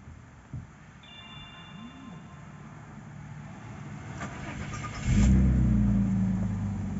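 A Citroën C5 V6 with the ESJ9 engine starts up, a short crank giving way to a louder, steady idle rumble that carries on to the end, heard up close.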